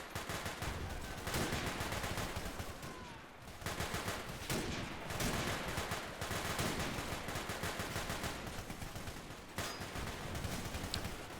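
Bren gun fire in a Totaler Krieg mod battle game, heard as dense, continuous bursts of rapid gunshots with short gaps, loud and close, overlapping other gunfire in a busy combat soundscape.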